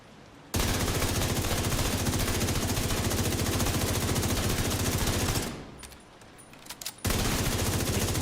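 Sustained rapid automatic gunfire in a video game, loud and continuous for several seconds, breaking off briefly into a few scattered shots before resuming.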